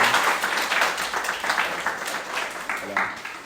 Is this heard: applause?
yes